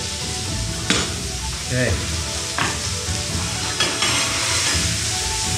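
Oil sizzling and frying in a pan while Japanese fried rice is cooked, a steady loud hiss with a few stirring scrapes and knocks; a voice speaks briefly.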